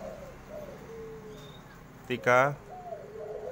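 Anggungan doves sunbathing at a bird farm in Mojokerto give soft cooing calls, with one louder, nearer coo standing out, while someone speaks over the low background.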